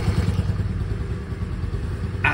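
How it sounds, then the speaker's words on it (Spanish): A Honda Navi Adventure motorcycle engine idles steadily after a carburetor adjustment, a close, even low putter with light mechanical clatter, ending in a short higher-pitched hiss. "Mire que ya se estabilizó más, entonces la moto no se apaga"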